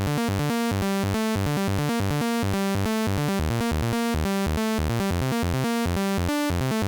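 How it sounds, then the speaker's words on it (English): A bright, buzzy sawtooth synth arpeggio from Ableton Wavetable with no unison, cycling quickly through notes in a steady, continuous pattern, thin and single-voiced, with no talking. "just a simple sawtooth wave with no unison"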